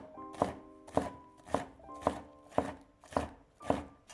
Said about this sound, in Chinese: 再改刀切成青椒丁